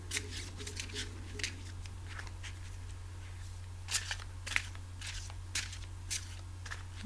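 Tarot cards being shuffled by hand during a reading, a soft, faint riffling and crisp snapping scattered across the clip over a steady low electrical hum, with no talking.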